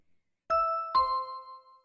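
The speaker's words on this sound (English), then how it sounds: "Ding dong!" A doorbell rings in a two-tone ding-dong, two clear chime strikes about half a second apart, the second ringing out and fading, alone with no talk.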